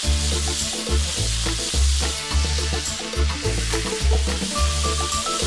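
Meat browning in a very hot pan, a loud continuous sizzle and spatter with a rhythmic low thumping layered underneath, close up, with no talking.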